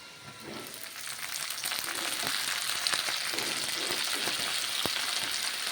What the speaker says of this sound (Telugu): మెంతికూర నూనెలో బాగా ఉడకాలండి